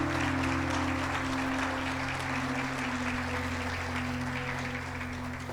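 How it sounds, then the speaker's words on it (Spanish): A church congregation claps together in a steady, dense wash of applause that holds evenly throughout, with a faint hum beneath. "Vamos a dar un aplauso al Señor."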